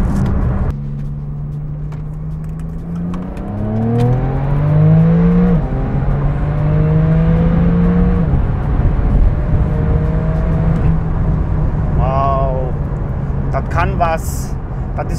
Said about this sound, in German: Wir fahren Parkplatz raus, denn es ist Zeit, das Inzeug wegzumachen.